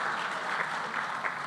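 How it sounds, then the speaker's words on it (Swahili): Steady crowd applause welcoming a pastor at a church gathering, sustained and fairly loud with no speech over it. "Tumkaribishe mchungaji kwa makofi."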